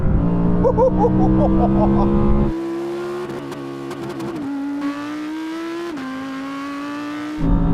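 Several Audi R8 generations launching in a drag race in manual mode, third gear: engine roar under loud excited talk, then a sustained high-pitched engine drone that climbs with each gear change.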